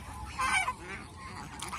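Short, fairly faint honking from a domestic goose, a nasal call rising once in the middle with a softer honk at the end, heard alone.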